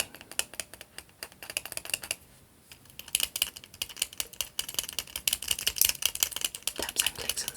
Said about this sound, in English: A little bit of plastic tapping.